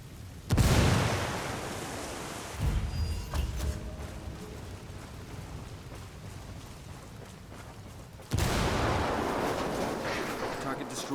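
A frag grenade explosion in the video game Ghost Recon Wildlands, a loud, close, booming blast. A second blast comes near the end, with rumbling gunfire and a voice in between.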